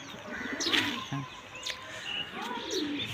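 Pigeons in a loft coo softly with scattered chirps against a low, steady background, a few calls standing out at moderate distance.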